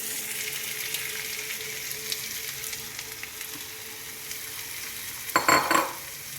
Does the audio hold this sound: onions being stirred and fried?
yes